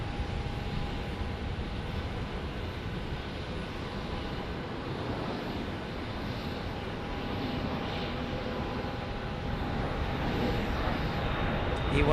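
An Embraer E175 jet departs Phoenix Sky Harbor Airport, its broad, steady engine roar holding even throughout and swelling slightly toward the end.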